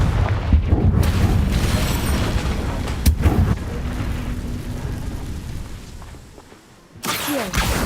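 A Confringo fire spell blasts in Hogwarts Legacy, a loud booming explosion with a rumbling tail, a sharp crack midway, and another heavy burst near the end.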